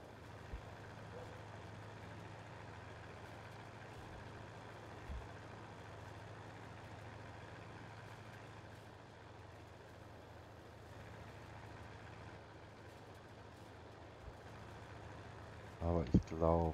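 A tractor engine runs steadily in Farming Simulator 22, a low continuous drone with a muffled hum throughout and a brief clatter at the end, while people talk over it.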